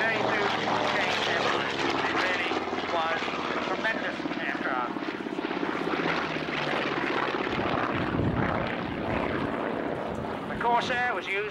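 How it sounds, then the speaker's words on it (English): A Vought Corsair propeller fighter flies at an air show, its engine drone and prop roar steady and loud throughout while an announcer talks over it. "It really was a tremendous aircraft."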